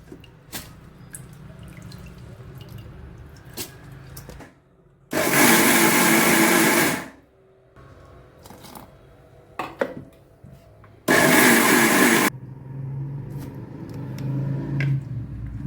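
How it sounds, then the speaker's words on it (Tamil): A loud wet grinder grinding rice runs in two long bursts, each about a second or two, separated by quieter clattering and dripping kitchen sounds. "இப்போ அரிசி மாவும் அரைச்சாச்சு நல்லா நைஸாக."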